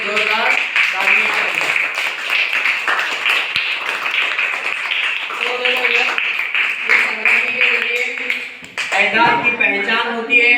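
Applause for a winning student in a classroom, a dense patter of clapping hands, close and lively, with children's voices calling out over it toward the end.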